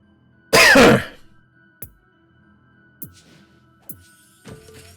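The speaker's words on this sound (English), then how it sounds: "Still coughing a little bit, but it's better than before." One sharp, loud cough, followed by a few quieter short throat sounds spaced out over several seconds in an otherwise quiet room.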